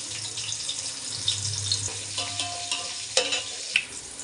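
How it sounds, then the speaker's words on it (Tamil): Two medium chopped onions fry in hot oil in a pan, a soft steady sizzle with a few clinks and faint running-water sounds in the background. "இப்போ வந்து வெங்காயம் போட்டுக்கலாம்"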